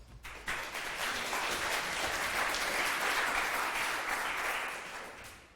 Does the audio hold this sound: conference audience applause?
yes